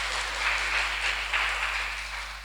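An audience at a campus talk applauds, heard as a soft, distant wash of clapping under a low steady hum, fairly quiet throughout.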